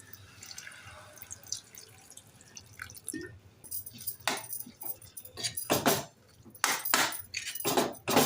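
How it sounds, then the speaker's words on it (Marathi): Water poured into soya chunks keema cooking in a pan, quiet at first, then a series of splashing, gurgling bursts with small clinks, close and fairly soft. "आता आपण पाणी घालूया."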